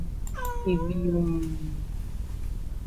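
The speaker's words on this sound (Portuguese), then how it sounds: "É o meu gato." A house cat gives one drawn-out meow that starts high and slides down into a long, wavering tail, heard close and clear over a low steady background hum.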